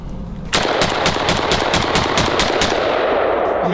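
A gold-finished AK-47 rifle fires a sustained automatic burst of about a dozen rapid, evenly spaced loud shots, close and dominant after a brief quiet start.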